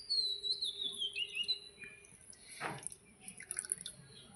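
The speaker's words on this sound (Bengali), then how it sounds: "মশলা ধোয়ার বাটির জল একটু আমি অল্প একটু দিয়ে দেব" A small splash of water used to wash ground spices poured into a steamed egg dish, a brief trickle and drip in the middle of a quiet kitchen with faint high chirps around it.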